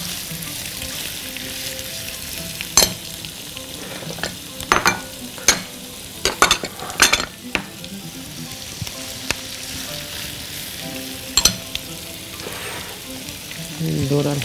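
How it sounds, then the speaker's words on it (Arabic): Vegetables and ginger being stir-fried in a pan, with a continuous sizzle broken by sharp clatters of stirring and scraping spread through the clip, close and fairly loud, with no talk. "ويلا بينا نشوحهم كده تشويحة حلوة مع بعض"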